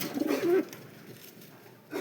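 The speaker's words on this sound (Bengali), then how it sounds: "উপরে সাদা কবুতর দুইটা আপনাদের দেখাই।" Pigeons, including a pair of white ones, coo in a low, soft burst nearby, followed by quiet and a second faint coo starting at the end.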